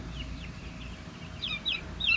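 Chickens in a small backyard flock cluck softly, a few faint calls early and then a quick cluster of sharper clucks near the end, alone against low outdoor ambience.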